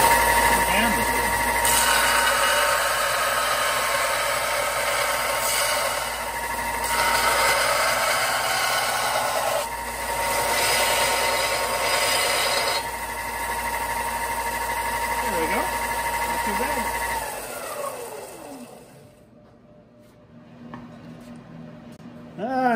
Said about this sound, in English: let's use the belt sander